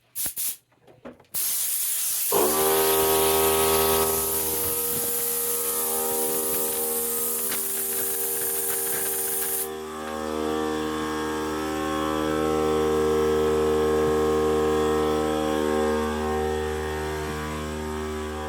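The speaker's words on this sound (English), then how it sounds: "the connected air compressor is connected to the bottom tank, which is feeding my hose, which is the point of letting it cut on and run" A Central Pneumatic air compressor kicks on after brief knocks and then runs steadily. Its loud motor drones with a strong hum and hiss, the hiss thinning partway through while the hum continues alone.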